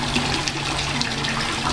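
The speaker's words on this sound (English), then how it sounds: "it's so that we can have a bit more water that's going flowing underneath" Water running steadily through a slanted water treatment setup in a permaculture class, a continuous close rushing and trickling flow with no pauses.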